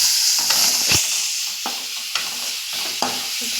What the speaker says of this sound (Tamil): போட்டோடனே கிண்டி விட்டுருங்க.